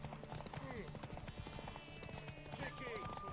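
Horse hooves clip-clop in rapid galloping rhythm in The Witcher 3, a busy steady beat under game dialogue and music, with a brief whinny.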